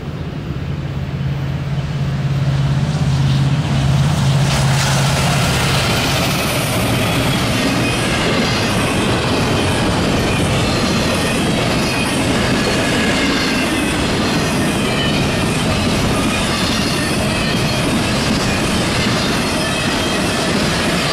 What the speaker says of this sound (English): Here comes westbound on the NS Chicago line.